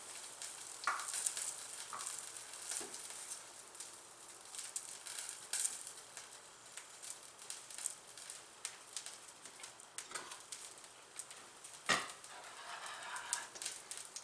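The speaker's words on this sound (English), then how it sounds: "when you're cooking your chicken, you're going to have to stand there and watch it" Chicken frying in a hot pan gives a quiet, steady sizzle with occasional sharper pops and crackles, and faint bird chirps in the background.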